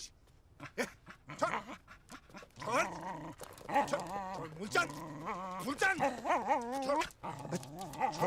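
A dog growls and attacks in a Bollywood comedy film scene, its snarls and yelps mixed under frantic shouting voices throughout.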